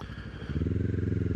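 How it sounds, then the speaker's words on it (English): A Kawasaki Ninja 500 motorcycle with its dB killer removed revs up close by, its loud exhaust settling into a deep, steady, pulsing idle that is heard alone. "just how loud this exhaust really is without that dB killer"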